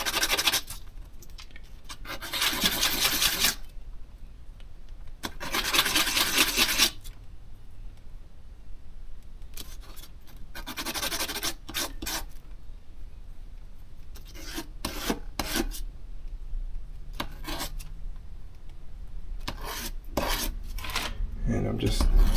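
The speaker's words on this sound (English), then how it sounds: "I got all these rough edges on the side, I'm gonna go through, sand that down a little bit" Hand sanding the rough edges of a custom swimbait body: repeated bursts of close, rasping abrasive strokes separated by quiet pauses, with no talk.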